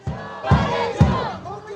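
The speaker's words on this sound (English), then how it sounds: "audible crowd support coming up for THIMPHU" Football crowd at a Bhutan Premier League match cheering and chanting for Thimphu FC, with three loud rhythmic bursts of voices a half-second apart, fairly close.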